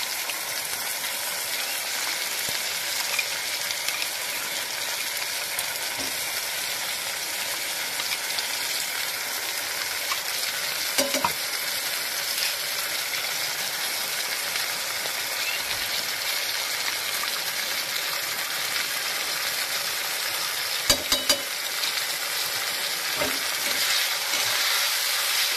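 Mushrooms frying in a pan with a tomato, garlic, green chilli and ginger paste, sizzling steadily throughout, with occasional clinks and scrapes of a spatula stirring.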